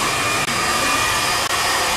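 A Ferrari hair dryer with a digital motor, rated 2,000 watts, blows loudly and continuously at close range, its steady whine briefly dipping twice as the airflow is interrupted.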